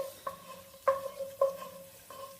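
Garlic and onion sizzle gently in a pan that is barely hot while a large wooden spoon stirs them, giving four spaced, ringing knocks and scrapes over a faint hiss.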